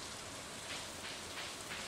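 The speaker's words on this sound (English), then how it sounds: "It's actually also raining, so it's a good day to go into the mines" Steady rain falling in the Stardew Valley game, a continuous soft hiss with slight swells, alone and without talk.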